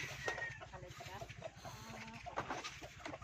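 Chickens clucking in a rural provincial yard, a steady scatter of short clucks and calls close by over a continuous mechanical hum, with faint voices in the background.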